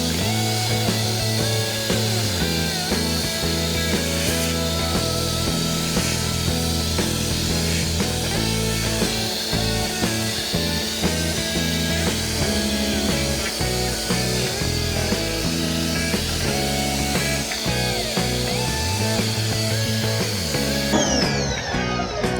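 A Ferrex pressure washer with an oscillating nozzle, a ball bearing rattling inside, blasting a sandy surface: a loud continuous spray with a buzzing motor drone and rough hiss, steady for the whole stretch with no talk.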